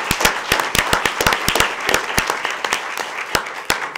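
An audience at a school board meeting claps for Jennifer, a dense burst of close, crisp hand claps continuing for a few seconds without speech.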